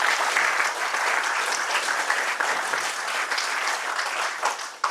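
Audience clapping at a student induction program, a continuous, fairly loud crowd of hands applauding steadily with no voices over it.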